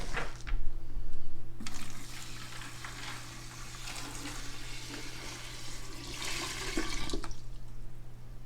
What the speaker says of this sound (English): Just pour it straight into the filter.